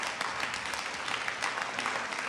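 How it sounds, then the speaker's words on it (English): Faint, steady round of applause at a city council meeting honoring Vietnam veterans, a soft continuous patter of many hands heard from a distance. "Let's give these Vietnam veterans another big round of applause."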